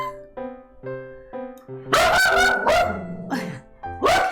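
A dog grumbles in low tones and then lets out a run of loud, close barks with rough, growly edges and brief pauses between them.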